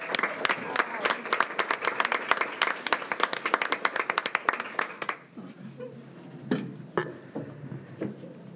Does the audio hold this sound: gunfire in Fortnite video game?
no